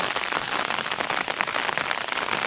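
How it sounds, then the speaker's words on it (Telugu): Rain falls steadily outdoors in the hills around Paderu, heard from under an umbrella as a dense, even hiss of drops close by, with no voices. "వర్షం అయితే స్టార్ట్ అయిపోయింది అనమాట"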